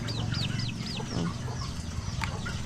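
Chickens cluck and chirp repeatedly in short bursts over a steady low rumble of background noise.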